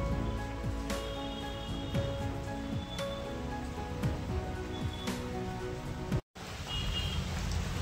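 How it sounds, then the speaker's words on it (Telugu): Rain falls steadily outside, a soft continuous patter with scattered drips and faint knocks, moderately close, with a brief cut near the end and no voices. "బయట చూసుకుంటే వర్షం అయితే వస్తూ ఉంది, పడతానే ఉంది."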